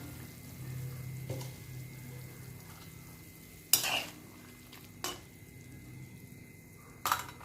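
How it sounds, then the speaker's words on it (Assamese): Puthi fish go into a boiling potato and elephant-apple fish curry, which gives a soft, steady bubbling simmer broken by a few sharp clinks of a utensil against the pot. "এনেদৰে উতলাত মাছখিনি দি ল'ম।"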